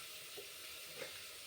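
Vegetables lightly frying in oil with cumin seeds for khichuri, a faint, steady sizzle with a couple of soft stirring clinks, quiet and close, no talk.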